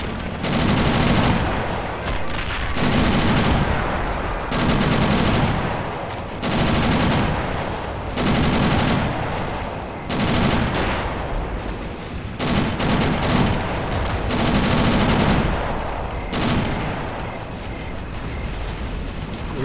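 M16 halftrack's quad M45 anti-aircraft machine guns fire in a video game, long loud sustained bursts of rapid gunfire separated by short pauses, repeating steadily.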